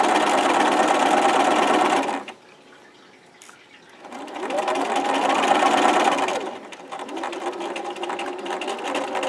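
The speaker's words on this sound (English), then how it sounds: "Continue sewing it on." A sewing machine stitching a pocket onto fabric runs in three steady, whirring bursts, with a short quiet pause after the first and a brief dip before the last.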